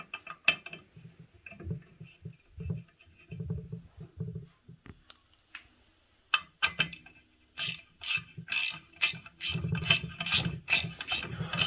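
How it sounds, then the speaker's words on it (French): A hand tap is turned into the original screw thread of a chain tensioner on a KTM 990/950 motorcycle, giving close, dry metallic clicks and ratcheting scrapes that grow into a quicker, regular rhythm toward the end. "on va venir mettre un coup de tarot sur le pas de vis d'origine"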